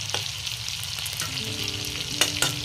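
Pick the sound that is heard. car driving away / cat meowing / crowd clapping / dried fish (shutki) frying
dried fish (shutki) frying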